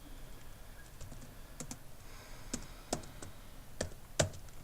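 Typing code comments on a computer keyboard, sparse quiet keystrokes and clicks in short irregular bursts with pauses, close and faint without talk.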